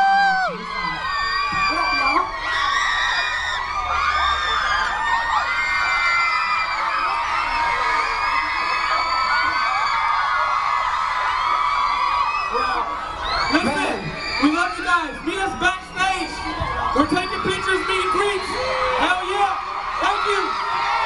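A concert crowd at Knott's cheers, whoops and screams continuously at a show, loud and sustained throughout, with high shouts from young fans layered over the roar.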